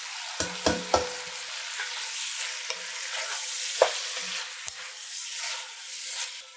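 Fire roasted tomatoes with their juices tumble into a hot chili pot, a few wet splashes and stirring clunks up front, then a steady sizzle and hiss carrying on alone.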